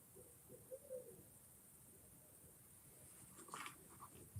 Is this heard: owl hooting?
yes